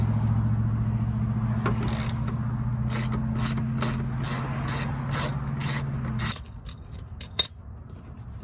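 A plastic engine cover is pried off a 2019 Toyota Camry: a run of close rubbing scrapes and clicking snaps over a steady low mechanical hum, which stops shortly before one sharp final snap.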